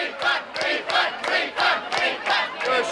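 An in-the-round concert audience jeering and shouting as a crowd, with rhythmic swelling roars pulsing roughly twice a second, loud and sustained with no clear single voice.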